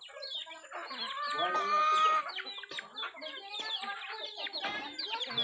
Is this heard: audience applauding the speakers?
no